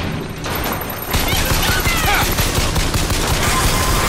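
Constant gunfire rattles through a Bioshock Infinite firefight, loud and close with rapid repeated shots and crashing impacts filling the whole stretch, while a person talks over it.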